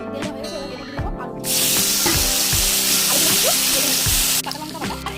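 Potato pieces drop into hot oil in a kadai and burst into a loud, hissing sizzle that lasts about three seconds before dying down. Light clanks of utensils can be heard close by.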